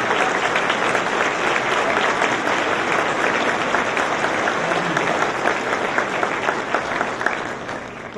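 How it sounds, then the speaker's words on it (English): Loud, sustained applause from a civic luncheon audience at the Akron Roundtable welcoming high school students and their sponsors, thick and steady across the whole stretch with only a slight easing near the end. "for us to give them and their sponsors a round of applause"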